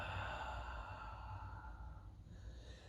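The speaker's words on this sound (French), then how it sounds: "J'inspire et j'expire." A long, soft exhale during a Pilates exercise, a breathy sigh that fades over a few seconds, close and quiet with no talking.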